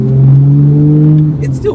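A Holden VZ Storm ute accelerates with a loud, steady engine drone that climbs slightly in pitch, fading near the end as a voice speaks over it.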